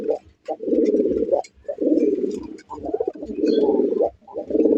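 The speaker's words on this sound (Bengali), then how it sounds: "বন্ধুরা এখানে একজন দেখেন রাসগোল্লা কবুতর আছে" Rasgolla pigeons coo loudly and close, a series of about six rolling, throaty coos in steady rhythm with short pauses between them.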